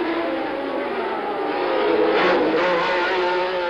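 Formula 1 race cars at the 1979 Long Beach Grand Prix roar with a sustained, loud, buzzing engine drone that swells slightly midway, as from cars passing nearby, with no voices.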